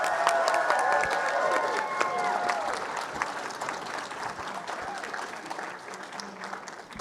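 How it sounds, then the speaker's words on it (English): Audience applause for cosplay contestants at a costume craftsmanship competition, a dense sustained clapping that starts loud and eases slightly over several seconds, with scattered cheers and crowd murmur mixed in. "let's give another round of applause for all of our fantastic contestants"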